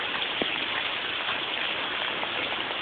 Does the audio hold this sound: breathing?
no